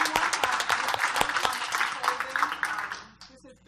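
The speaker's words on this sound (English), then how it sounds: "So everybody, please give them a round of applause." A conference audience applauds a policy panel, dense clapping filling most of the stretch before tapering off near the end, with some voices mixed into the crowd noise.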